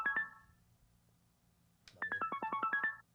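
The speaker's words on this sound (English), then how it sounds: "Somebody's alarm's going off." A mobile phone ringtone goes off during a conversation: a short burst of bright electronic tones, a pause, then a longer run of rapid repeating melodic beeps, fairly close and clear with no talking over it.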